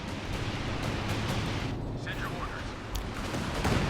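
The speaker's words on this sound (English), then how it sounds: "Calliope firing in center" Calliope rocket artillery fires in a Company of Heroes 2 battle, a dense continuous roar of launches and blasts that holds steady and loud throughout, thickening near the end, with a voice talking over it.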